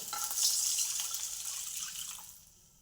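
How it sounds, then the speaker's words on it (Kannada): Water splashes into a pan of fried onions with a brief sizzle at the start, then the pouring fades out. "ಈಗ 1 ಗ್ಲಾಸ್ ನೀರು ಹಾಕ್ತೇನೆ."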